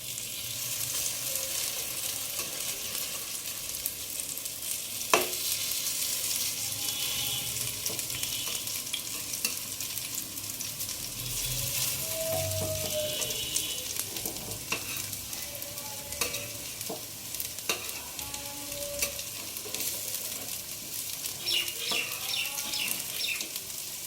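Poppy seed fritters shallow frying in a little oil give a steady, dense sizzle throughout, with occasional soft clicks and scrapes of a spatula turning them.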